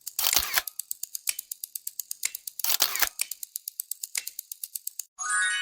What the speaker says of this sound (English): That was a camera shutter.